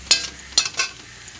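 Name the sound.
lifting fried onions (birista) from frying oil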